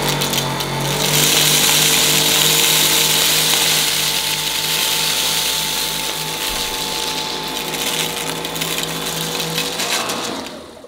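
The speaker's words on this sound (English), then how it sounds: "on this particular carpet, I'm having to use the Dyson on its lower power setting." A Dyson V8 Extra cordless vacuum cleaning carpet on its low power setting, a loud steady motor whine with a constant tone and rattling brush noise that starts, runs for about ten seconds and cuts off at the end.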